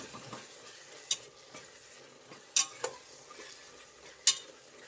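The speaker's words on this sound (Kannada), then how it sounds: "ಈಗ ಒಂದು 3 ಟೇಬಲ್ ಸ್ಪೂನ್ ಅಷ್ಟು ಮೊಸರು ಹಾಕ್ತಾ ಇದ್ದೀನಿ. ಸಾಕು, ಮಿಕ್ಸ್ ಮಾಡಿ." A spoon stirring yogurt into softened tomatoes in a pan for tomato pulao, with a few distinct scraping clinks over a soft background sizzle, close and moderately quiet.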